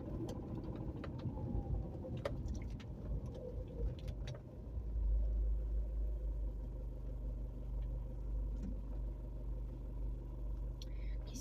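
Trucks and cars rumble along a road at a distance, a continuous low engine drone that swells into a heavier, louder rumble partway through as a truck draws near, with faint talk in the background.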